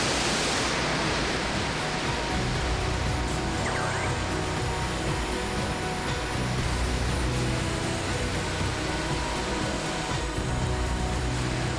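A steady, dense roar of the Orkhon waterfall in Mongolia fills the whole clip, constant and loud with no breaks or voices.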